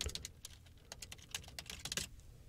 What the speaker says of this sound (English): simply by typing it out